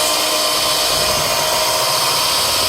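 Electric mixer beating boxed cake mix at medium speed, a steady, loud whirring drone running continuously without pause.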